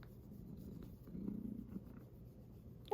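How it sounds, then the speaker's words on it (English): A kitten purrs softly and steadily in a low rumble, close by, ending with a brief louder sound. "listen to her purr"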